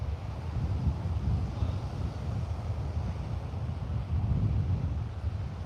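Wind sweeps across a Melbourne beach on a gusty kitesurfing day, a constant low roar buffeting the microphone with steady rumble and no clear voices.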